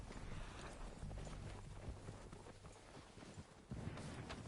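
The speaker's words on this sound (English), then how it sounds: "They're coming down with the horses." Horse hooves clip-clop steadily in Red Dead Redemption 2, several horses approaching at a run, loud and close over a dense bed of in-game ambient noise.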